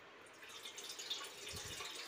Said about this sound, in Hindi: स्टीमर में पानी डाल के